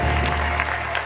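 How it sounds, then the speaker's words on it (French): A live comedy audience claps for a moment in a club show, a dense, steady patter of applause sustained evenly throughout, fairly close and filling the room with no voices over it. "On applaudit"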